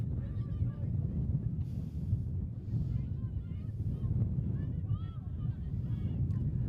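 Wind buffets the microphone at an outdoor women's rugby match, a steady low rumbling roar throughout, with a commentator's voice talking over it.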